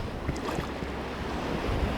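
Ocean waves roll in continuously on a beach under light drizzle, making a dense, steady wash of surf mixed with wind rumble on the microphone, close and fairly loud, with no voices.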